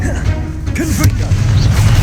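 A Confringo fire spell blasts off during a Hogwarts Legacy duel, a booming burst over a dense, steady rumble of battle noise, with a voice faintly present.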